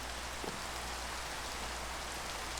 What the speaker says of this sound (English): it is raining like crazy over here